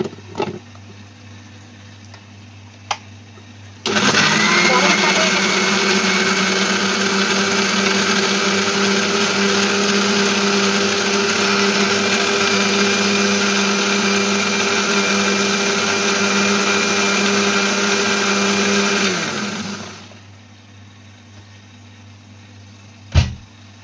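A kitchen blender whips up ghol, a salted buttermilk drink, with a loud, steady motor whir. It starts abruptly, runs unbroken for about fifteen seconds, then winds down and stops, with no one talking.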